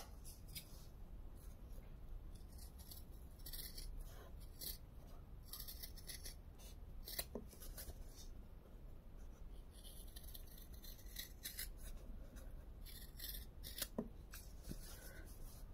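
Scissors cutting off excess fabric from a sewn bag, giving soft, close snipping and rustling that repeats steadily under faint background hiss, with no talking.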